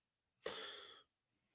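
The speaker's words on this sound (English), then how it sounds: "that's what happens when you cough behind the scenes" A single short, faint cough on a remote video call for a college football podcast, one isolated burst of about half a second in otherwise near-silent audio.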